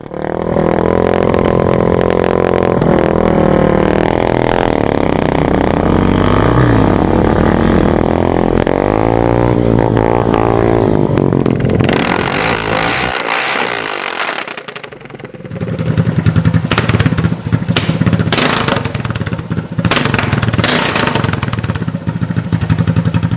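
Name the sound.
1976 Yamaha TT500 dirt bike ridden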